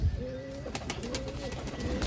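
A pigeon coos softly nearby, low throaty calls over faint background noise and a few light taps.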